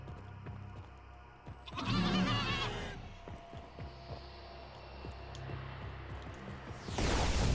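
Sheep bleating in the horror video game Sker Ritual, a loud burst of calls near the start followed by a quieter stretch of game ambience and another loud swell at the end.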